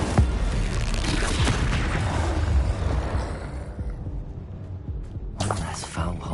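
Stupefy, Glacius and Incendio spells cast during Hogwarts Legacy video game combat: a run of magical bursts and dull booms, with a voice shouting the incantations over them.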